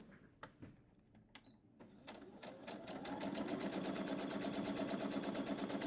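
A sewing machine chain pieces quilt blocks with a quarter-inch seam, a few sharp clicks and taps first, then the motor winds up into a fast, steady, close stitching rattle that continues to the end.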